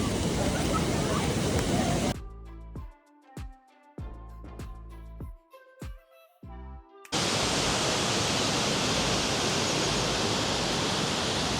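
A waterfall in Bosnia, an hour's drive from Mostar, pours out a loud, steady broadband roar that drops away midway while music plays, then returns at full strength.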